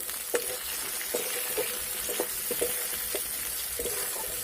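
Chopped onion frying in mustard oil in a wok with bay leaves and whole spices, a steady close sizzle broken by soft scraping stirs at irregular moments.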